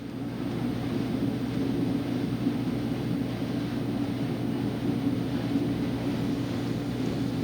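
Steady, loud jet engine roar from an airliner landing on runway 4 left at Boston Logan, a continuous low rumble that holds even throughout with no talk.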